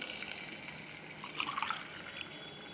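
Water is poured into a pot for temple-style pongal, a quiet trickling and splashing that swells briefly midway over a soft, steady background. No one speaks.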